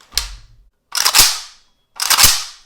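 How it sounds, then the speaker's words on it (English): An AK rifle with a rough action is cycled three times, each a sharp metallic clack and rattle of the bolt racking, loud and close with brief silences between, no talk. "Much rougher action on this rifle. Not sure if that came across in the audio."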